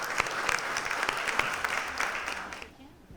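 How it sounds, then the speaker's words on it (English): Applause for guests at a mayors' state of the city event, a modest crowd clapping with distinct individual claps audible, nearby, tapering off and ending after about two and a half seconds. "So let's give all of them a round of applause."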